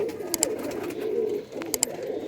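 A pigeon coos close by in soft, low throaty rolls, two short phrases with a brief pause between, alongside a couple of faint sharp clicks.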